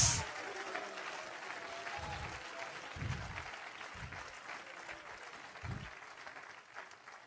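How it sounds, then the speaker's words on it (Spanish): Congregation in a church applauding, a steady, dense wash of clapping from many hands that holds evenly across the whole stretch with no voices on top. "Y si el aplauso es más fuerte,"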